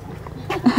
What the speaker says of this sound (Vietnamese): Có gì đâu mà sủa.